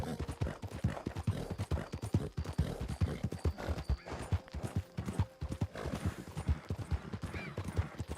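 A video game horse trots along with a rapid, steady clip-clop of hooves and a brief whinny. It sounds fairly close and a bit quiet, with no speech over it.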